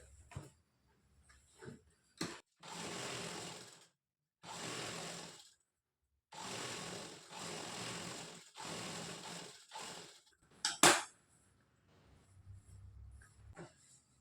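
A sewing machine stitches a blouse in several short bursts of rapid mechanical whirring, separated by pauses, followed by a sharp click and quieter handling noises.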